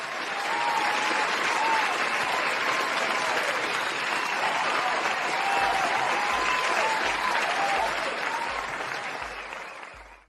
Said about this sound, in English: let me go ahead and give you all that round of applause